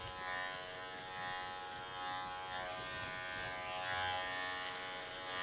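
Electric pet clippers with a 3 3/4 blade buzz steadily and close while trimming the neck of a matted Maltipoo, a continuous hum with slight shifts as the blade moves through the fur.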